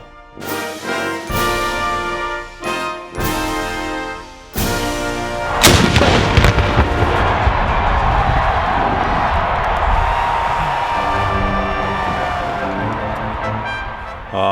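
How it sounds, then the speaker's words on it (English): Virginia Tech's Skipper cannon fires a single loud, reverberating boom at the last note of the national anthem during a football game, following several sharp bursts and leaving a long, rumbling crowd roar. "when this gun goes off at the last note of the national anthem, there's no greater part of the game."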